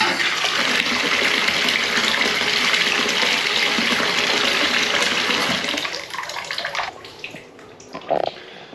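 Hot water running from a tap into a bathtub, a steady loud broadband gush that continues for several seconds, then thins and eases off with a few splashes near the end.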